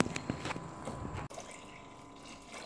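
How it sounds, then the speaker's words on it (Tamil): Water poured into rava dosa batter mixed with thick curd, a steady liquid trickle and splash that runs through the clip, louder in the first half before a brief dip and a softer continuing flow. "தேவையான அளவு தண்ணி ஊற்றிக்கலாம்."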